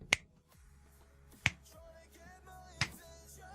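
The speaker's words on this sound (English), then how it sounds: "one of the big tests for sound, right, that everybody can do, right, is the finger snap" Three sharp finger snaps ring out close to a microphone during a streaming setup, spaced about one and a half seconds apart, each a crisp pop over quiet background tones.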